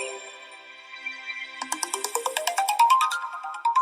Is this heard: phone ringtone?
yes